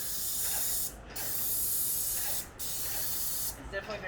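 Spray painting a first coat indoors, with the paint sprayed right up to the dirt line: three long, loud, close hissing bursts, each separated by a brief pause.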